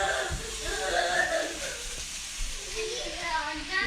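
Ginger and garlic frying in a pan, a steady soft sizzle and hiss that stays fairly even throughout.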